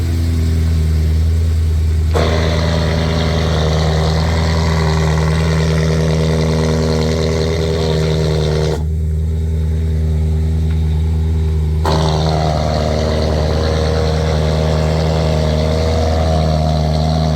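A BMW M3 E93 with a custom valved exhaust idles with the valve open, giving a loud, steady, deep burble that stays even throughout, with slight shifts in tone partway through.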